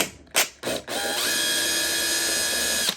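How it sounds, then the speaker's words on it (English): Cordless drill's clutch slipping and ratcheting while backing out anchored fasteners on a Fender '59 Bassman reissue amp: a few short bursts, then a steady, sustained mechanical clatter with a high whine, close up. "that noise was just the clutch"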